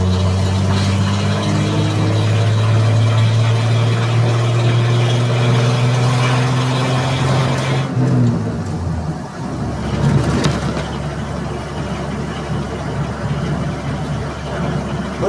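An old Ford Bullnose F-250 truck with a very large exhaust pipe idles outdoors in wet, sloppy conditions. Its steady, low engine rumble drones on throughout, changes tone partway through, and is joined by broadband noise later, with no talking.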